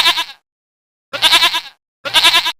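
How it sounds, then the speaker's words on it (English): A goat bleats three times loudly and close up, each quavering call about half a second long and separated by clear pauses of silence. "goat,"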